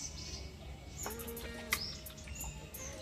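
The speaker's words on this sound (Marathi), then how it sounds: "हे बघा आत्ता पण चिवचिव करतायत" Small sparrows chirping in a tree, with short high tweets scattered over soft outdoor background noise.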